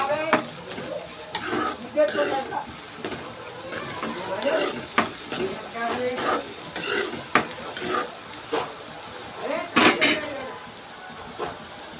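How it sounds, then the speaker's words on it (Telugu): Chopped onions fry in a pan for a prawn and chana dal curry, with steady clatter of a spatula stirring against the pan and intermittent scraping over a low sizzle for about twelve seconds. "ఓ నిమిషం పాటు అయితే బాగా వేయించుకున్నానండి"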